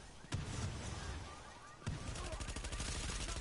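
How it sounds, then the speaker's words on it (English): Assault rifle fire in a shooter video game: two sharp shots followed by a rapid automatic burst, close and loud, with faint talking underneath. "What's that assault rifle you're using?"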